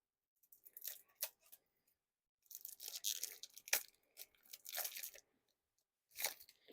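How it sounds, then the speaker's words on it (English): Sealed Red Mario Nintendo playing cards being unwrapped, with bursts of crisp tearing and crinkling plastic separated by short pauses, close and fairly quiet. "And now we can unwrap these cards. They're sealed up."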